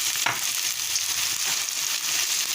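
Steady stirring of browning in a pot for rice and stew chicken, a continuous close sizzling, frying hiss with faint scraping, loud and alone.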